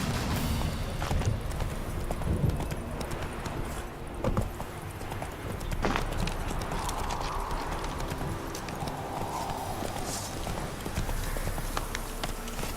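A horse galloping in The Witcher 3 video game, with fast continuous clip-clopping hoofbeats over a dense outdoor ambience, steady and fairly loud throughout, no speech.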